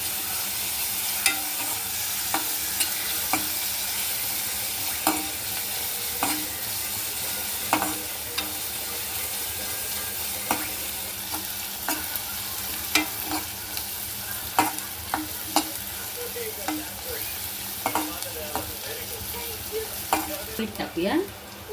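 Onions with masala and curry leaves fry in a pan for egg curry, giving a steady close sizzle broken by frequent sharp clicks and scrapes of stirring.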